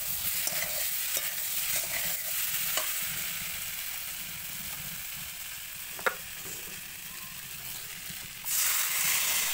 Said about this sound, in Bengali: এখন ভাজা বেগুনটা দিয়ে দিলাম এটা একটু নেড়ে চেড়ে তারপরে জল দেব।